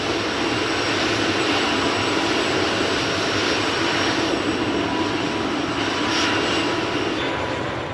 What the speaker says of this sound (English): My engines are revving faster and faster and faster.